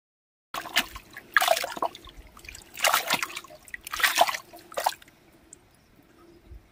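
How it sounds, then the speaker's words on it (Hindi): Hot spring water splashing, trickling and bubbling out of an opening at a lake near Essa Khel, Mianwali, in several loud bursts of close splashing with quieter dribbling between them. "बुलबुले बन गए पानी निकल रहा है यहाँ से"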